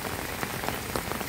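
Rain falls steadily in a dense, even hiss with scattered drops pattering on a surface close by.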